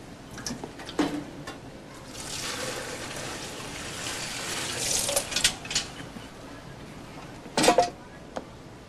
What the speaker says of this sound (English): You just put the dishes in here, along with about a gallon of water.